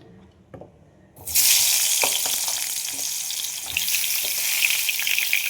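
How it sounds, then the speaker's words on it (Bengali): Pointed gourds rubbed with salt and turmeric hit hot oil in a wok: near-silence, then a sudden loud, dense sizzle that holds steady, with a few light scrapes and clinks. "পটলগুলো ভেজে নেব"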